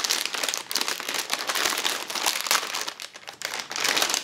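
A thick plastic bag is handled and opened up close, a dense continuous crinkling and crumpling that swells and dips in bursts for several seconds.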